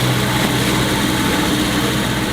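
Boat engine idling after a hose change, a loud, continuous, even drone with a low hum that holds steady throughout, with no voices.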